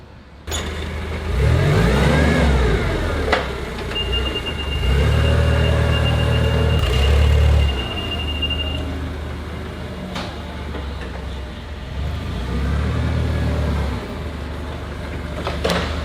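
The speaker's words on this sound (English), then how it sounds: "Plus, we get a cool forklift, which is always a plus." A forklift engine runs loud and close at a brickmaking site, rising and falling in surges as it revs, with a few sharp knocks and a brief high whine partway through.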